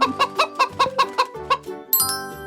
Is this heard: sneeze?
no